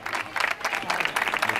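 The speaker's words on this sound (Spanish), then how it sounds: "Va, un aplauso, por favor," Applause at a carnival mussel-feast gathering in Marbella, a brief burst of crowd clapping mixed with voices and cheering.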